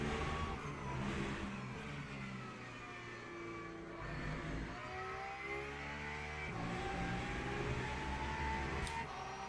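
Porsche race car engine in the Le Mans Ultimate racing game at Qatar, a steady whirring drone with rising and falling rev sweeps held throughout, loud and continuous with no talk.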